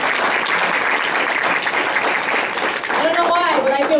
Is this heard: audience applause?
yes